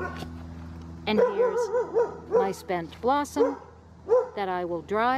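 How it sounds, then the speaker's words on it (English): A dog barks and yips a few times nearby, short sharp calls mixed in while a person talks. "that's my dog"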